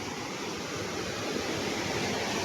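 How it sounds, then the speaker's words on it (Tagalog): Strong, steady roar of a fast river current flooding in Montalban, Rizal, a dense, continuous rushing noise with no pauses. "Sa impact ng tubig talagang malakas po at malakas pa rin yung agos ng tubig dito."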